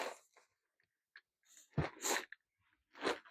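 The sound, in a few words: sneeze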